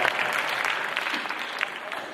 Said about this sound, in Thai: ขอเสียงปรบมือให้เธอด้วยนะครับ